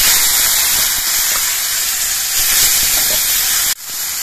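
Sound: karamcha fruit added to hot oil with dried chili and mustard, sizzling

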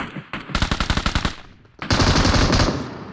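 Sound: gunfire in a shooter video game

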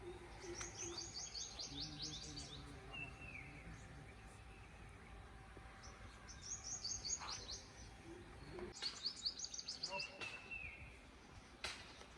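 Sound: birds chirping

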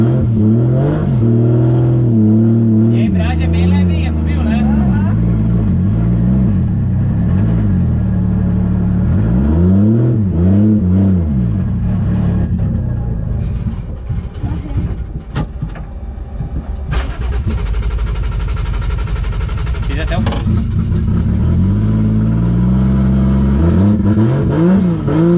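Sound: Nissan 350Z drift car engine revving

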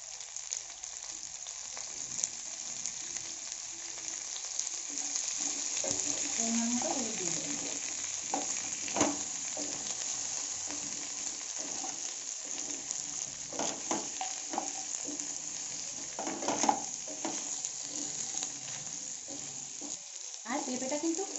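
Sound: frying papaya with turmeric

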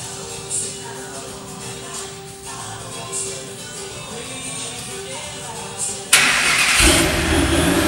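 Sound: supercharged car engine starting

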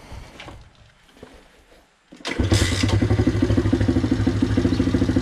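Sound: Loncin 110/125 motorcycle engine running on test

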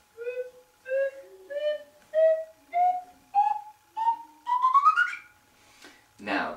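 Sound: slide whistle being played

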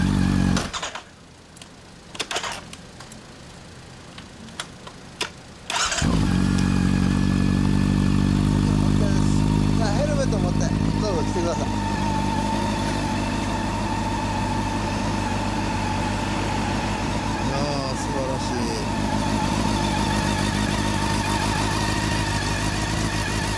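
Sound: Honda CB400 Super Four motorcycle engine with Mugen muffler

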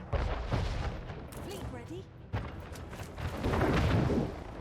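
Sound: ships firing and exploding in video game Anno 1800

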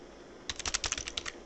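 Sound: typing on a computer keyboard

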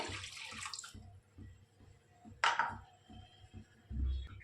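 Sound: water poured into a hot pan

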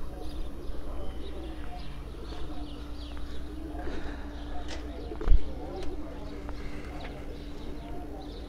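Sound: pigeons cooing on a rooftop during pigeon flying

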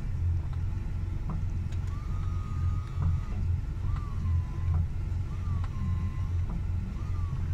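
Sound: Porsche 911 windshield washer pump running, trying to squirt fluid

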